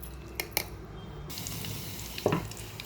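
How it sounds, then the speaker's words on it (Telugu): Tempering spices sizzling in hot oil for a coconut, urad dal and dried red chilli chutney: a soft, continuous crackle with a few sharp pops and a brief stirring scrape, no voices. "ఇప్పుడు దీన్ని పోపు చేసుకున్నాం."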